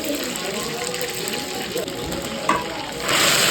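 Green chillies, garlic, chilli powder and mustard seeds sizzling loudly in hot oil for tempering, a steady close frying hiss that surges louder near the end, with a voice talking underneath.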